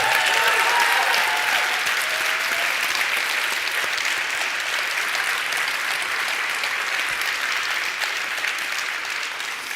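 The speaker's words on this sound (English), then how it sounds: "So a big round of applause for our colleagues." Sustained, even audience applause at the EMYA 2025 museum awards ceremony, dense broadband clapping from a large crowd that holds steady for about ten seconds and tapers slightly at the end.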